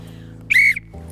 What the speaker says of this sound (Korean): 그 호루라기를 불어 위험을 알리도록 가르쳤다.